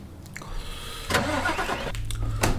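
A simulated V8 truck engine in Euro Truck Simulator 2 turns over and rumbles, revving up in two surges with a low idling growl between, close and steady.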